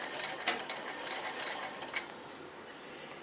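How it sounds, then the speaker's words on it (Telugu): Fast whirring, ratchety mechanical clicking from a treadle sewing machine winding thread onto a bobbin, fairly faint and close, easing off partway through before a brief final burst. "ఇలా దారం చుట్టుకోవాలి."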